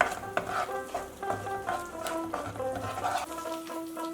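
Ginger and garlic paste being sautéed in a pan while preparing a prawn and pointed gourd dorma, with repeated stirring scrapes and a soft sizzle under faint background tones, steady and close.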